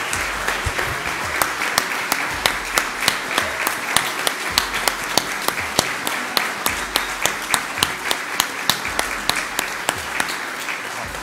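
An audience applauds the 2019 Nelson Silva Medal honorees at a ceremony: dense, steady clapping from many hands with sharp individual claps standing out, sustained loud throughout with no talk.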